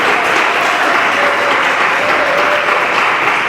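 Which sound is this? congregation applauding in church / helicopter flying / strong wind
congregation applauding in church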